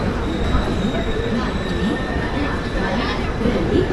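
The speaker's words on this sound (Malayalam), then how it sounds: "Chennai Mysore super fast express ആണത്." Chennai Mysore Superfast Express passing, heard from aboard another moving train, as a steady rolling rumble and rattle with faint wheel squeal and a thin high whine, under a voice talking.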